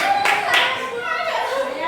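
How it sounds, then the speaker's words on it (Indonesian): Children in a classroom clap their hands together in a brief burst of applause, close and lively, with a teacher's voice and kids' chatter mixed in around the clapping. "tepuk tangan siapa yang dapat pena"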